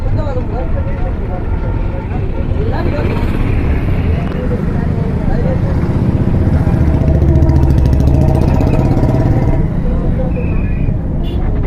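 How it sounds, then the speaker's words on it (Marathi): Heavy highway traffic jam packed with cars, motorcycles and buses, a dense continuous rumble of idling and creeping engines with occasional horns, heard under someone talking throughout. "कसली ट्रॅफिक आहे आज, गाड्याच गाड्या आहे सर्व."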